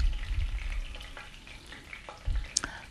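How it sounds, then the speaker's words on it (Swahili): Chicken necks frying in hot oil to firm them up; a close, moderate sizzle with bursts of crackling and occasional stirring clatter in the pan, without talking. "Nimezikaanga kwenye mafuta, yani ili zikauke, yani zikaze."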